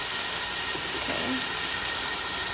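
Salmon sears in a very hot pan, giving a steady, close hiss of sizzling oil that runs evenly from start to finish with no voices over it.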